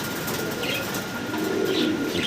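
Andalusian fancy pigeon softly cooing with faint wing movement, close, over a low background murmur, no talk.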